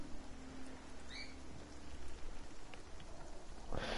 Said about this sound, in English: Oh, this rain, will it ever stop?